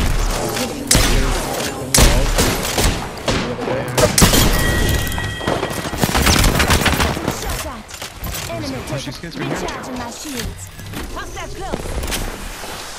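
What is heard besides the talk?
gunfire from a video game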